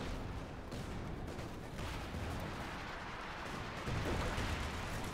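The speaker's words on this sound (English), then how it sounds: "of course we got the Calliope barraging again" A Calliope rocket artillery barrage in Company of Heroes 2, a dense, continuous roar of overlapping explosions and rumbling blasts that swells slightly toward the end, with no voices.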